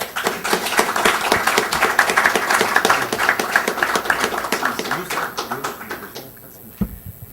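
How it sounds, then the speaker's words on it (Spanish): An audience at an Ibero-American private law congress applauds to introduce a speaker, with dense, steady clapping that fills the room for several seconds before thinning out and fading. "qué mejor que presentar al doctor Carlos Fernández Sarego con un fuerte aplauso"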